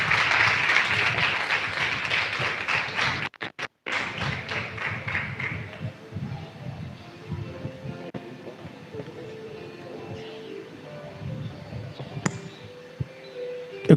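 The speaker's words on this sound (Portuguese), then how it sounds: "Vocês podem aplaudir a Jesus?" A church congregation claps in a burst of broad, dense applause for the first few seconds, then it drops away to quieter room sounds, a few thumps and faint voices.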